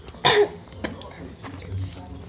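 A man outdoors on a fishing trip coughs hard after swallowing a mosquito, one sharp loud burst followed by a smaller throat-clearing hack and faint background noise.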